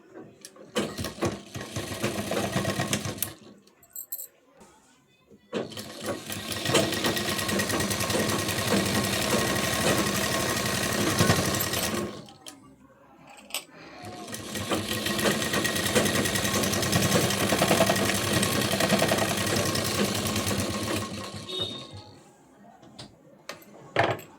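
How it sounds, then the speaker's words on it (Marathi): Sewing machine stitching a blouse fitting, running in two long loud bursts of rapid steady whirring with short pauses and brief handling between runs. "आता इथे आपण शिलाई देऊन घेऊ"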